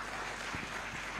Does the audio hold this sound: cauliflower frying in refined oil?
no